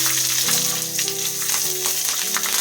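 Green chillies spitting and sizzling as they hit hot oil already fragrant with kasuri methi, a steady close frying hiss with faint stirring, no voices.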